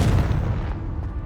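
A blasting spell explosion in the Hogwarts Legacy video game, a loud deep boom with a rumbling low-end burst that fades over about a second.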